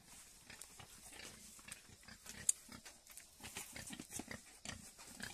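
Pigs on a small pig farm in Assam, about four months old, give soft intermittent grunts and snuffling sounds at close range, with occasional short louder snorts.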